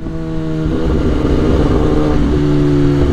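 Kawasaki ZX10R 1000 cc sport motorcycle riding through congested traffic, its engine droning steadily and loudly close by, with a rising rev partway through and no talking.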